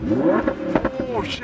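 An open-top Audi R8 Spyder with a mid-mounted V10 revs its exhaust in a short, loud burst of rising and falling engine tone, while a voice exclaims over it.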